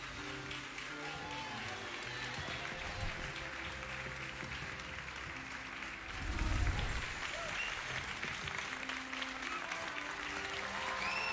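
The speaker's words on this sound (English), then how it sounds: "Even the clapping in the background." Sustained in-game applause from a crowd in Hogwarts Legacy fills the whole stretch, steady and dense, with faint tonal sounds beneath and a brief louder swell midway.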